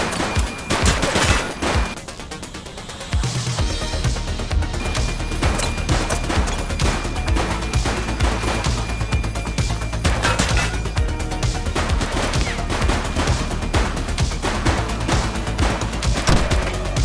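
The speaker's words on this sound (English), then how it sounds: "He's shooting!" Sustained gunfire from a shooter during a police shootout in the video game The Precinct, loud rapid bursts and single shots cracking continuously for the whole stretch over a steady low rumble.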